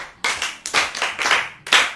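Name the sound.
clapping for a child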